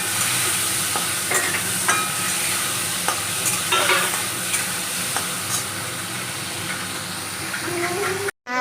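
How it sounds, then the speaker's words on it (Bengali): Salted prawns fry in hot oil in a pan, a loud, steady sizzle with occasional sharp pops and stirring scrapes, close up and continuous until it cuts out abruptly at the end. "চিংড়ি মাছ ভেজে নিচ্ছি"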